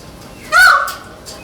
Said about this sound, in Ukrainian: павичі живуть у просторих вольєрах поруч із машинами, намагаються перекричати гуркіт моторів і розважають транспортників своїми співами